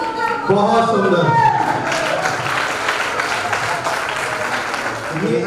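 Audience claps steadily through the hall after a dance performance at a religious cultural programme, with voices and tonal sounds mixed in over the continuous applause.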